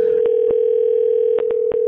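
A steady electronic-sounding tone mimicking a telephone ring, sustained and loud throughout, with a few short clicks or breaks across it, produced by a voice or device imitating the ring.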